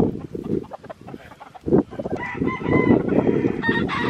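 A young fighting-rooster cockerel, about 3.8 weighed, crows in a strained, rising call that carries over background clucking and farmyard noise, loud and close.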